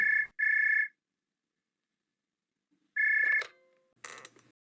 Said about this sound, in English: Mr. Eric got a special phone call